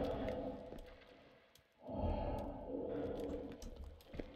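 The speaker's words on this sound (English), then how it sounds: "It sounds like someone's breathing through an apparatus or some shit." Heavy, rasping breaths drawn through an apparatus in Sons of the Forest, slow inhale and exhale cycles, fairly faint and close, with a sharp swell partway through.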